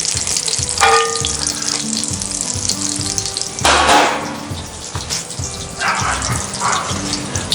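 Butter sizzles in a cast iron pan over a fire, a steady close hiss broken by a few louder bursts of bubbling and spattering as it moves around the pan.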